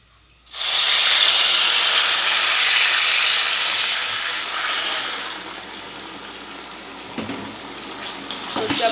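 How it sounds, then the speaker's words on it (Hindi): A mug of water is poured into a cooking pan for sooji halwa, a loud steady rushing splash and hiss that starts abruptly and continues for several seconds, fading slightly with a few later surges. "तो अब हम इसके अंदर 1 मग पानी का ऐड करेंगे।"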